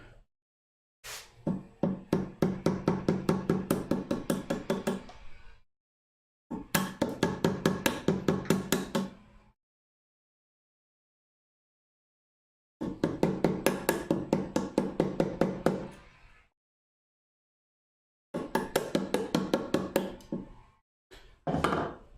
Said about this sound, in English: It's this part of chiseling where stuff can actually fly up and bite you in the eye